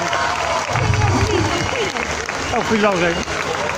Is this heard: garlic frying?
no